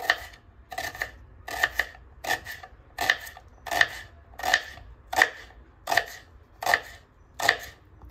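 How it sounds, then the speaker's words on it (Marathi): A knife thinly slicing onions lengthwise on a board, about eleven crisp, evenly spaced cuts in a steady rhythm, close and fairly quiet with no talking. "माझे कांदे छान बारीक उभे चिरून झालेले आहेत"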